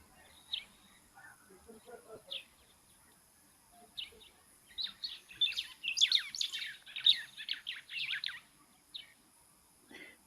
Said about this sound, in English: Sounds like a sparrow of some sort.